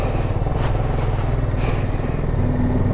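Motorcycle engine running while riding on a mountain road between Barkot and Uttarkashi in Uttarakhand, a loud close pulsing drone with wind noise.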